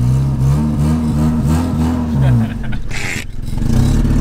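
An old wreck of a car's engine revs up at a race and holds a throaty mid-pitched hum, dipping briefly before climbing again, loud and close.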